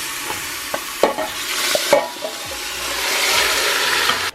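Pieces of lamb cut to about four inches go into a pot for Ethiopian kikil, giving a few soft knocks and thuds, then a rising wet sizzle and hiss that holds steady near the end, with no talk.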